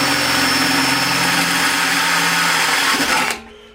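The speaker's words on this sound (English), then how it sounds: "the first thing I did there is I was drilling a pilot hole" A power drill bores a pilot hole to centre a hole saw. The motor whines loud and steady for about three seconds, then cuts out and spins down to quiet.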